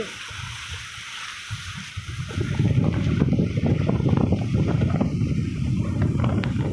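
A large boat runs at sea in strong wind, giving a low rumbling wash of engine and water with wind noise on the microphone. The sound gets louder and busier after the first couple of seconds.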